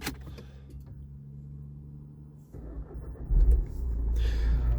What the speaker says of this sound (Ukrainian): Так що заведемо машинку.